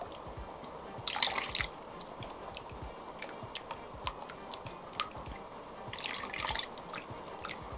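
Liquid poured slowly into a chocolate tres leches mixture, soft wet drips and squishy splashes close by, with two brighter bursts amid quiet patter and no talk.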